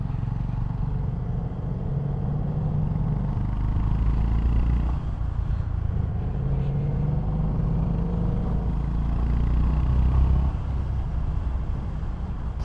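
Deep, steady rumble of a 2025 Honda GB350S, a 350cc single, while riding on UK roads, the engine note rising and falling slightly under continuous wind and road noise, loud and close with no talk.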